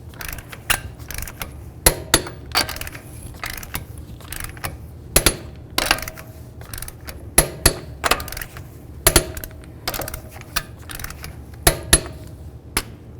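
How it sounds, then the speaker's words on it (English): A torque wrench tightens the wheel lug nuts on a 2005-2016 Ford Mustang in a star pattern, producing irregular sharp metallic clicks and ratcheting taps, close and clear over a low background hum. "we're going to torque these in a star pattern to 100 foot-pounds"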